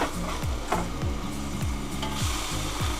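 Smash burger patties scraped and flipped on a hot griddle, a dense continuous sizzle with repeated short scraping strokes of a spatula, close up and without speech.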